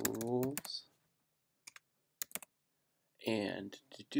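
Short bursts of clicky typing on a computer keyboard while naming a paragraph style in InDesign, sounding close and sparse, with someone talking just before and after.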